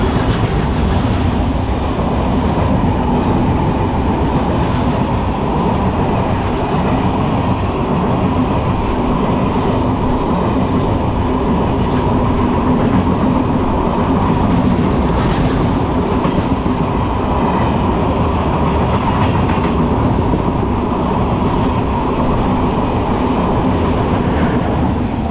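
The 12347 Kamakhya–Rajendranagar Capital Express passes at a crossing, a loud, unbroken rumble with rolling clatter from the wagons that holds steady for the whole stretch, with no voices.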